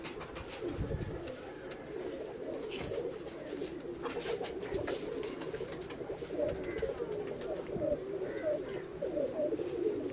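Zeera pigeons coo steadily in their coops, a low continuous murmur of many birds close by that fills the whole stretch with overlapping calls.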